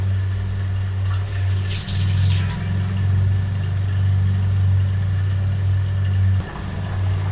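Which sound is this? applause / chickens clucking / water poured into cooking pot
water poured into cooking pot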